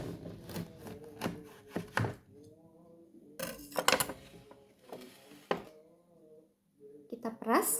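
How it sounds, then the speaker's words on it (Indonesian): A knife cuts through a lime on a board in a home kitchen, giving several sharp chopping knocks spread between stretches of speech, close and fairly quiet. "Lalu kita potong jeruk nipis."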